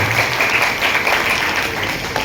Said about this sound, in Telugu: గట్టిగా చప్పట్లు కొడుతూ యేసయ్య పాదాన్ని పట్టుకోండి.